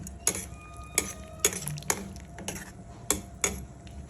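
A utensil clinks and scrapes against a pan while sweet potato leaves and tuna are stirred, about eight sharp metallic knocks at an uneven pace over a low background hum, close and fairly quiet.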